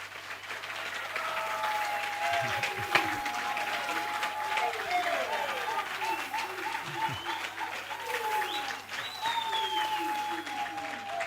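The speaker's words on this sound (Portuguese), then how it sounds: "obrigado pelas palmas, mas não façam isso." An audience applauds steadily through a political speech, a continuous crackle of clapping at moderate level, with talking layered over the applause for much of its length.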